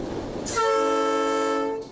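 A train on a rural railway through a cornfield sounds one long, loud, tonal horn blast lasting over a second. Quieter rumbling comes before and after the blast.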